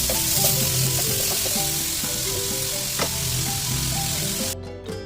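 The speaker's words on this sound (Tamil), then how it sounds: "இந்த வெங்காயம் நல்லா வதங்கட்டும்" Onions and two broken green chillies sauté steadily in a pan for a Tamil channa gravy, giving a continuous close sizzle and frying crackle with occasional stirring clicks and no voices.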